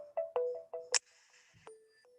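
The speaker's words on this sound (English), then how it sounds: "It's ringing here." A telephone rings nearby with a short electronic ringtone, several bright tonal beeps followed by a sustained higher tone, fairly quiet and alone.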